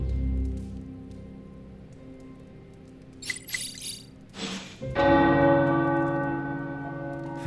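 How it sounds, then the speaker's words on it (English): Tower bells ring in the video game Midnight Suns, a loud resonant peal with sustained ringing tones that swell in after a brief clatter and linger, heard alone without talk. "The tower bells are ringing."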